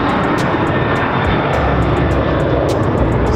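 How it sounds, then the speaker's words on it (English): A jet airplane passes overhead with a loud, steady roaring rumble filling the whole stretch, outdoors with faint ticking sounds above it. "It's another jet."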